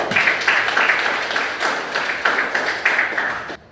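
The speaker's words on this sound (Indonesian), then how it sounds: "Tepuk tangan untuk Arvina" Short burst of classroom applause for a student presenter, a small group clapping close by in a quick, fairly loud patter with rhythmic accents, fading at the end.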